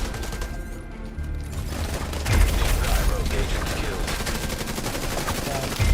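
Rapid automatic gunfire in The Division 2 during a firefight, dense bursts with heavy low thumps, loud and close throughout, with a voice talking over it.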